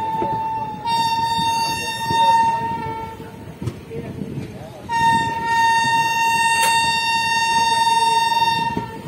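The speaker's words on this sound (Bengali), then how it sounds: "আরে ট্রেনের এই হংটা আমার ফেভারিট।" The Dhano Dhanye Express sounds a loud, sustained horn in two long blasts, with rumbling rail noise beneath and a brief pause between them.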